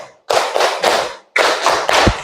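A class of schoolchildren claps the three-beat 'tepuk 3' classroom routine in unison, two loud rounds in a row, each a quick cluster of three sharp group claps, close and with no talking.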